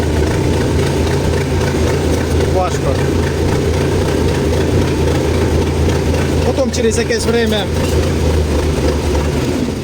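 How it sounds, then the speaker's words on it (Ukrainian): A YuMZ tractor engine idles while warming up with a steady low rumble throughout, while someone talks over it. "трактор прогрівається"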